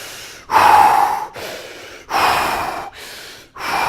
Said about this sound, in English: Fire breathing, 5 rounds. The power breath is what I told you about.